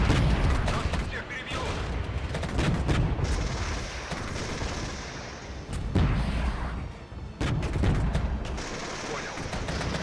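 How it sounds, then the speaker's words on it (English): Mortar and gunfire in the tactical war game Regiments, a dense, loud barrage of booms and bursts running continuously, with brief dips between waves of fire. "Mortars are trying to break down the defenses there."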